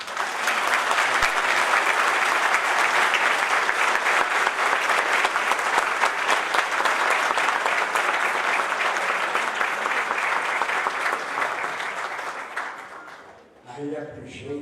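Long, warm ovation from a conference audience at the opening of the STS Forum in Latin America, honouring a Nobel Prize winner; dense sustained clapping that fades out near the end, followed by a voice speaking.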